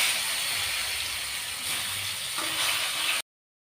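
Soft brinjal slices frying in oil in a pan give a steady, close, even hiss and sizzle that runs unbroken for about three seconds and then cuts off abruptly, with no voices.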